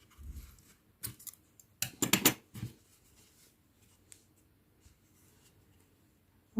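Scissors snip through dark blue crochet yarn for a handmade keychain, giving a few sharp close cuts with a tight cluster of crisp snips in the middle, alone in a quiet room.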